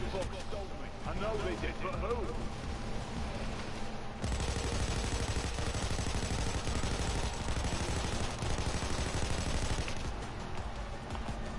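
Heavy, continuous gunfire from the Payday 2 heist video game, thickening into a dense, unbroken barrage after a few seconds, with voices talking over it.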